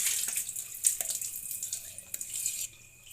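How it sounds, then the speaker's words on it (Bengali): Water pouring and trickling out of soaked rice as it drains in a kitchen, a faint splashing flow with small spatters that tails off near the end. "এবারে চালটা থেকে পানি ঝরিয়ে নেব।"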